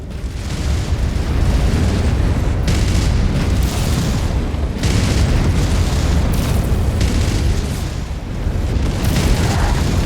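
Loud, continuous explosions from the video game Mechwarrior 5 Mercenaries rumble through the whole stretch, with heavy booms and blasts layered on one another and no clear break between them.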